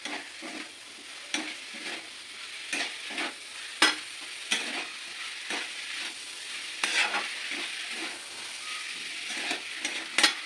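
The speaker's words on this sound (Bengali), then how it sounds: "সমস্ত সবজি, চিংড়ি মাছ, মাংস একসাথে আমি এবার একটু ভাজা ভাজা করে নেবো" Vegetables, shrimp and meat frying together for mixed fried rice, a continuous sizzle broken by repeated sharp scraping and clacking strokes of a spatula against the pan, close, with no talk.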